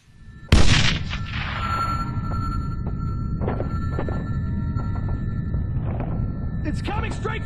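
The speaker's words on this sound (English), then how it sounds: "Incoming missile!" Incoming missile strike in the Sniper Ghost Warrior 2 video game: one sudden loud blast with a long rumbling decay, followed by a steady roar and scattered thuds and crackles.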